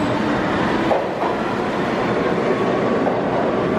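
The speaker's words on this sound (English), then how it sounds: "Here comes the train." A New York City subway train pulls into a station, a loud, steady rumble of rail noise filling the platform throughout with no clear speech.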